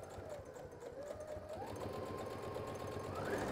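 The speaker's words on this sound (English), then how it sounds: "we're going to go back to the sewing machine and using the same seam allowance, I'm going to start to stitch these bags this side" A sewing machine runs steadily, stitching the seam of a fabric tote bag, its motor whirring continuously with a slight rise in pitch near the end, close and alone without talk.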